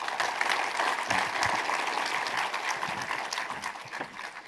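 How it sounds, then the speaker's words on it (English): Audience applause fills a trailer launch event for the film Toxic, a dense, steady wash of clapping from a large crowd that holds loud throughout and eases slightly near the end. "let's give sir a big round of applause once again, please"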